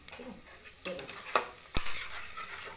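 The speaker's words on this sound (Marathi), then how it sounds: "कांदा चांगला फ्राय करून घेते" Onions frying in a pan with turmeric while a spoon stirs them. A steady sizzle runs throughout, broken by several sharp scraping strokes against the pan.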